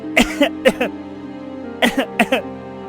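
A child coughs in two short bursts of several harsh coughs each, separated by a pause, over a faint steady background hum.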